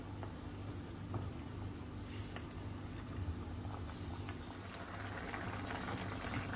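Half a cup of sama rice cooks in two cups of hot water on a gas flame, a steady, soft bubbling hiss that continues evenly without any talking.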